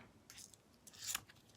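Two quiet, close snips of scissors cutting through paper, a short crisp one followed by a slightly longer, louder cut.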